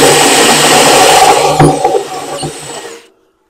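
A step drill bit bores a hole in metal for a hollow wall anchor, giving a loud, steady grinding whir close by for about three seconds before it stops abruptly.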